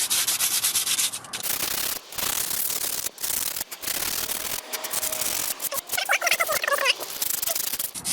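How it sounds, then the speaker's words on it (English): Sandpaper rubs hard against a Citroen C3 Picasso brake hub during a disc and pad job, loud rapid back-and-forth scratching strokes with brief pauses and a few metallic squeaks near the end. "So I've just got a bit of sandpaper and"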